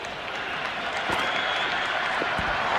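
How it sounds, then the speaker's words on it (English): Large cricket stadium crowd at an India versus Pakistan T20 World Cup match, a broad sustained roar of cheering and applause that swells slightly, with a commentator's voice faintly underneath. "It's almost palpable, the excitement emanating from this crowd at the moment."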